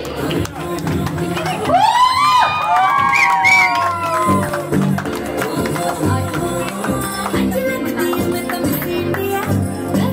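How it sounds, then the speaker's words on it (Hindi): A crowd at an engagement celebration cheers and whoops loudly, with shrill shouts and excited calls over a lively, continuous clapping and chatter throughout. "एक बार जोरदार ताली हो जाए दोनों के लिए।"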